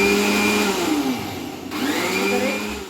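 Mixer grinder blending a strawberry ice cream mixture, a loud close whirring motor whose pitch dips in the middle and then rises again, with no talking.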